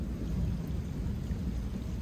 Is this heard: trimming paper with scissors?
no